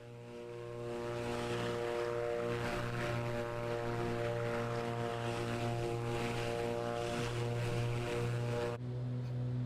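A Beechcraft B58 Baron twin-engine propeller plane drones in flight in a flight simulator game with a strong, steady hum that holds throughout and shifts slightly in pitch late on.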